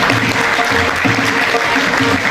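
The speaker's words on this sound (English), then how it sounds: "Give him a big round of applause" Audience at a school merit day ceremony giving a big round of applause, loud continuous clapping from a large crowd filling the whole moment, with faint voices and music-like tones beneath.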